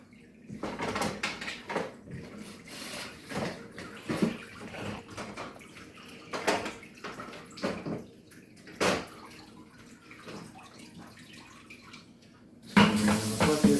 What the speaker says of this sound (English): We're going to rinse them off, any algae, try to get that cleaned off.